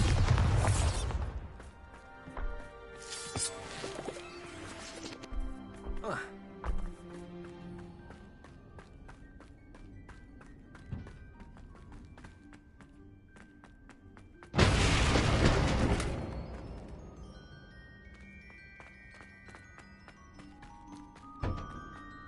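A Bombarda blast spell goes off in the video game Hogwarts Legacy, producing a loud booming burst at the start and another heavy explosion midway, each trailing into debris clatter and ringing game effects.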